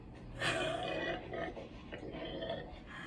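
A pig grunts and snorts in a rough, low oinking burst followed by a few softer grunts, close and fairly loud, with no talking.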